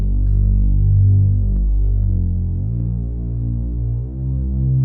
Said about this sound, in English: I have a Reese bass loaded up for the mid bass